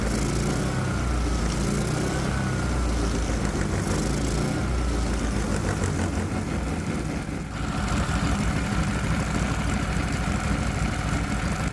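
A 212 Predator small engine fitted with simple fuel injection runs steadily at moderate speed, a loud, close, continuous buzzing drone with a brief dip partway through and no talking.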